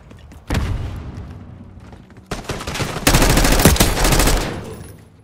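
Bursts of automatic gunfire and heavy booms from Call of Duty Black Ops 6 multiplayer, with a sustained loud volley near the end after two shorter rounds of shooting.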